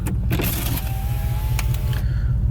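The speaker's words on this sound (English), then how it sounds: "I'll kind of crack the windows here." Power windows on a 2007 Pontiac Grand Prix GXP hum downward, the motor whine running close and steady over an idling engine inside the car.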